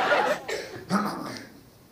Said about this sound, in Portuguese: Todo mundo tossindo, né? Pelo amor de Deus, essa tosse aqui.